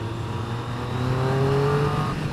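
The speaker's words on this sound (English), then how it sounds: "God, that exhaust sounds nice though," A 2015 Triumph Street Triple RX motorcycle exhaust hums steadily and close, its harmonic tone rising smoothly as the engine revs up under light load, with no talk over it.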